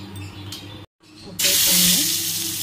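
Egg frying in a pan with spices, a steady close sizzle rising abruptly after a short silence and continuing to the end, with faint clinks of stirring over it.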